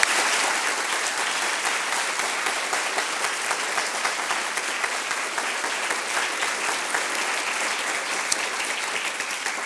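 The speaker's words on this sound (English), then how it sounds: "I hope from your applause that you did enjoy this session tonight." Sustained audience applause after an evening lecture on medicine in modern society, dense steady clapping from a hall full of listeners, even and unbroken for the whole stretch.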